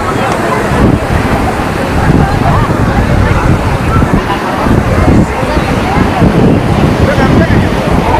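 Sea waves and strong wind on Puri beach, a constant roar of surf with heavy wind buffeting the microphone, loud and close, with voices talking over it.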